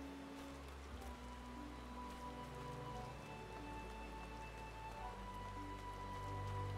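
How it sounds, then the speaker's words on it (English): Steady rain in Final Fantasy XV patters continuously over a low background hum, even and unbroken throughout. "Why is it still raining,"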